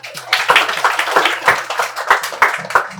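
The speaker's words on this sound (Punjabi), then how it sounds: "ਤਾੜੀਆਂ ਲਾ ਭਰਾਵਾਂ ਵਾਲੀ ਦੋਨਾਂ ਲਈ" Audience applause for two brothers at a computer institute in Patiala rises as a brisk, fairly close burst of many hands clapping, with a faint voice underneath.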